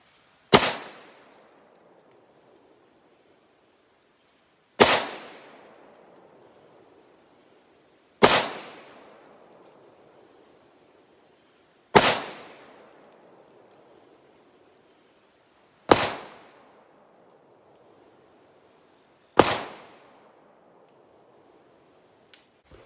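A Ruger Vaquero single-action revolver fires .45 Long Colt rounds: six sharp, evenly spaced shots about four seconds apart, each with a short ringing decay, and no talking between them.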